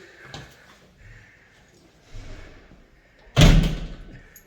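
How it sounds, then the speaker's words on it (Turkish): A few faint bumps and shuffles, then a door swings shut with a solid thud that rings out briefly. "kapıyı kapatabilirsin"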